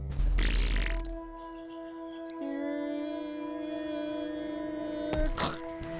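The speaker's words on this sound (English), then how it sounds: "Oh, I now have to power fart right off of this." A power fart sound effect from a video game about an uncle's story, heard as a low rumbling blast at the start that gives way to sustained tonal, humming game audio with a brighter burst near the end; no talking.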